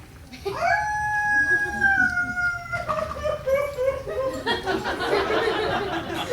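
A voice imitates a wolf, drawing out a long wavering howl, then breaking into shorter yelping calls.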